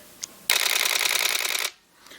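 A Nikon D4 camera shutter fires in continuous high mode at 10 frames per second, a rapid, even burst of crisp clicks lasting a little over a second, close and alone after a single faint click.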